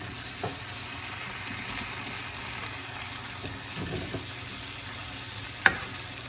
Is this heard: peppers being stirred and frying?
yes